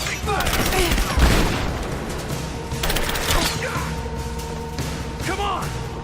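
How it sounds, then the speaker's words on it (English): Rapid bursts of gunfire in the Rise of the Tomb Raider video game, several sharp volleys and booms at mid distance mixed with game sound effects, while voices shout and talk over the shooting. "Suppressing fire!"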